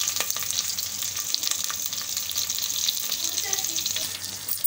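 Slit green chillies and curry leaves sizzle in hot oil with asafoetida, making a steady close hiss with faint stirring clinks and occasional pops.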